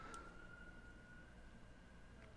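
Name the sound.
siren passing by outside the house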